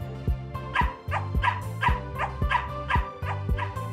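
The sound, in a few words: dog barking in a video game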